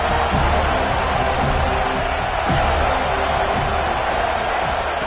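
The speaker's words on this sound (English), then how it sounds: "The crowd is roaring, trying to help this defense on fourth down." Stadium crowd in the NCAA 26 college football video game during a fourth-down play, a dense steady roar of many voices that fills the whole stretch without letting up.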